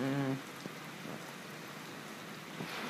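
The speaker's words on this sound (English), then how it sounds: "Now we're getting strong winds coming from this band of heavy rain." Steady hiss of heavy rain falling during a winter storm, constant and broadband, with a brief tonal sound at the very start.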